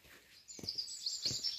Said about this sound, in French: Et petits oiseaux qui chantent.